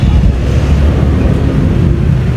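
Loud, rumbling wind buffeting the microphone outdoors, a constant low roar with no voices.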